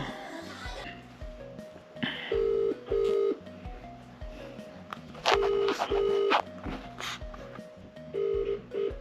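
A phone call placed on a mobile: keypad dialing tones, then repeated ringback tones at a steady cadence, with some voice between them, heard close.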